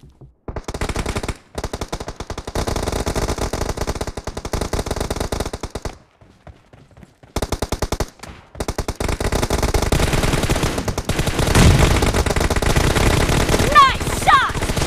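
Rapid automatic gunfire in PUBG Mobile, loud sustained bursts with a few short silent breaks, building to heavier overlapping shots near the end, with game voice callouts mixed in.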